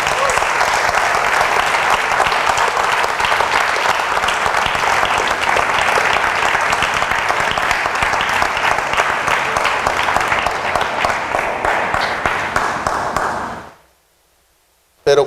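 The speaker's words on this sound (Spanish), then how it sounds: "Dale un aplauso al Rey." A congregation applauds during a church sermon, dense loud clapping sustained without a break, then cutting off abruptly into near silence before a brief sound at the very end.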